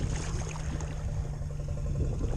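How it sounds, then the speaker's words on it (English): A Jeep Rubicon fitted with a snorkel idles while fully submerged in water, giving a steady low rumble with a faint rhythmic pulsing under a constant watery wash. "It's idling completely underwater."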